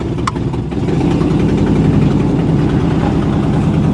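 A turbo Pontiac Trans Am engine idles steadily up close, with a loud, even low rumble and a brief higher tick near the start.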